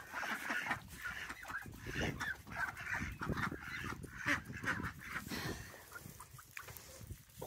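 Noisy ducks honking and quacking from several birds at once in a muddy yard, a dense overlapping chatter that continues throughout.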